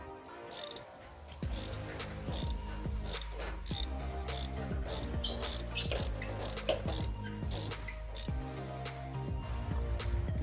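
Ratchet clicking on a spark plug of a Ford F150 5.0L V8, a run of close, sharp pawl ticks in quick bursts with brief pauses, as the plug is broken free; no talk over it.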